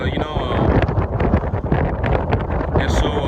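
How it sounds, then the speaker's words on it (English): Strong gusty wind buffets the microphone outdoors on a cattle grazing pasture, a loud continuous roar with rushing surges, with a voice faintly mixed in. "I guess the bad news for today is that it's very windy."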